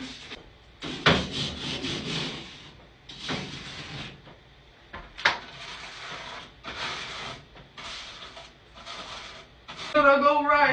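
Brush scrubbing during a full bathroom clean, with repeated rhythmic back-and-forth rubbing strokes in bursts, loud and close, and someone talking over parts of it.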